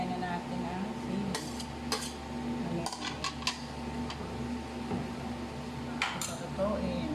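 A utensil scrapes and clinks against a pan as food is stirred, giving intermittent metallic taps over a steady low background hum and faint kitchen noise.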